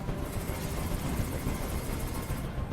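Steady rapid thudding of helicopter rotor blades with engine whine in the video game Detroit: Become Human, close and continuous, no voices.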